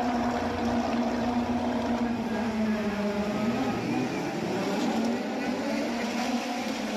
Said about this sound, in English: So engines kick in now.